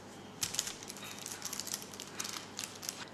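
A knife cuts through a pan of fudgy homemade brownies, leaving scattered faint clicks and scrapes against the pan in short, irregular bursts.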